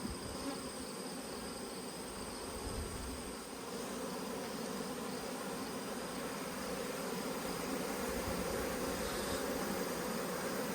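A honeybee swarm hanging from a tree branch outdoors fills the air with a dense, continuous buzzing hum, steady and moderately faint throughout, with no voices.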